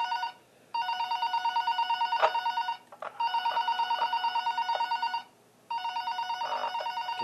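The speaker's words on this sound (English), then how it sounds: "Can you pick up the phone, please?" A phone in the video game Five Nights at Powerpuff Girls rings in three long, loud electronic trilling bursts separated by short pauses, heard alone and close.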